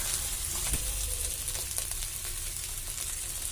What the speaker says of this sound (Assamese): মাছখিনি ভাজি লৈছোঁ